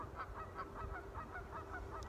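Geese honking outdoors, a steady chorus of repeated nasal honks at a regular rhythm, moderately loud and continuous over low background rumble.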